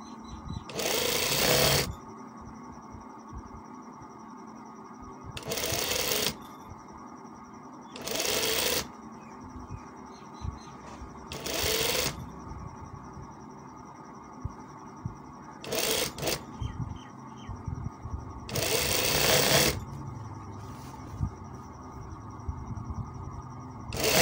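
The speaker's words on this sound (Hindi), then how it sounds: "ये इस तरह जल्दी जल्दी सिलाई लगा लेता हूँ" A sewing machine stitches a shirt in several quick bursts of rapid, rattling clatter, each lasting one to two seconds and separated by quieter pauses.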